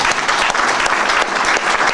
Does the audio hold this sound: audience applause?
yes